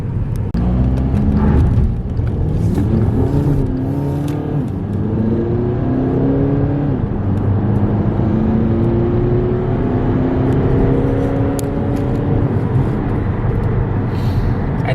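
A 2014 VW Passat TDI diesel accelerates hard from inside the cabin, engine droning loudly and rising in pitch through the gears with a harsh first shift, then continuing to pull steadily.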